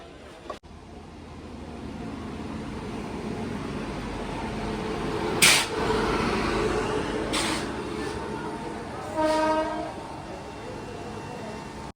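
Train at Gaya Junction railway station platform, with a steady low rumble of station and engine noise throughout, a few short horn or whistle blasts in the middle and a tonal horn near the end, people talking faintly in the background.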